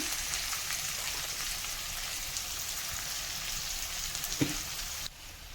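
Dried red chillies frying in a pan for a spicy chicken gravy, a dense continuous crackling sizzle like light rain, with a single knock just before the sound drops off near the end.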